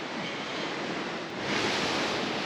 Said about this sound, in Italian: Arriva l'altra onda.